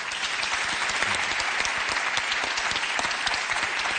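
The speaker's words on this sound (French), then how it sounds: "Yacine Bellous, on applaudit" Studio audience applause on a French television game show, a dense, steady wash of many hands clapping that stays loud and even for the whole stretch, with no voices standing out.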